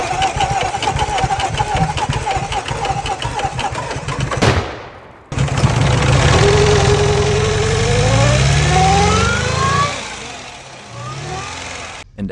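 A car engine runs in the video game Melrose Mechanic Simulator 2025 after its fuel line bolts were tightened. It idles loudly, cuts out for a moment, then restarts and revs with pitch climbing and falling.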